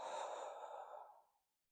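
A single deep, breathy exhale during yoga breathing, close and soft, tapering off into silence over about a second and a half.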